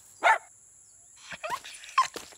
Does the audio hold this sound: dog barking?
yes